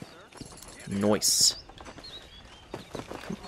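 Horse hooves clip-clop in the Red Dead Redemption game, a few light steps mixed with a brief loud game tone and a short spoken word, fairly faint and close.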